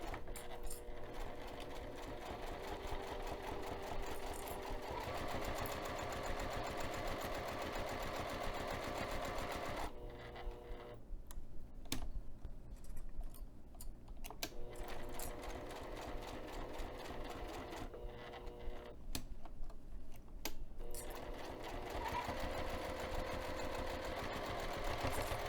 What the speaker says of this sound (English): and then continue sewing.